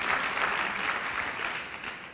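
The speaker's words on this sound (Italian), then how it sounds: "Un applauso, grazie" An audience at a lecture applauds, a steady wash of many hands clapping at moderate volume that holds evenly and tapers slightly at the close.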